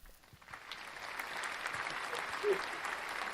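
Applause from a podcast studio audience, steady dense clapping that swells slightly and holds, with no talk over it.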